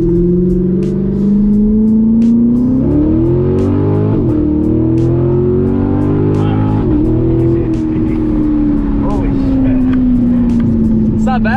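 Hot pickup truck engine, completely stock with no tune, idles and then revs under a quick throttle hit, the loud low drone rising and falling steadily throughout while someone talks nearby.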